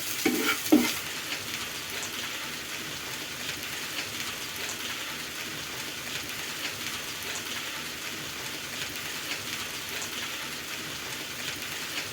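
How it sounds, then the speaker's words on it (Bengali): Grated potato with salt, turmeric and chilli powder is stirred in a hot pan with small shrimp, giving a continuous crackling sizzle after a brief clatter at the start. "গ্রেট করা আলু পরিমাণ মতো লবণ পরিমাণ মতো হলুদ গুঁড়ো লঙ্কার গুঁড়ো দিয়ে একটু নাড়াচাড়া করবো"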